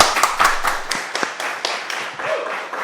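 Small crowd claps for a DJ at a DJ masterclass during Miami Music Week: scattered, uneven claps that start fairly loud and taper off, with a faint voice near the end.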